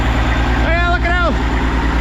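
A Kenworth cabover truck's diesel engine runs steady and loud with the throttle bumped up, a dense low idle-like drone with regular pulsing throughout, and a brief rising tonal whine partway through.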